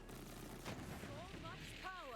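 Gunfire at enemies in the Borderlands video game, rapid faint shots under game sounds, with brief voices partway through.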